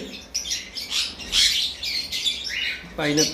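Big cockatiels and pineapple conures for sale chirp and squawk nearby in a busy, overlapping chorus of sharp calls, with a person speaking briefly near the end.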